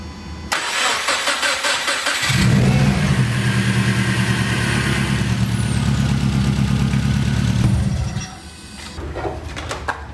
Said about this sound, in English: Alright, let's get this thing a first start.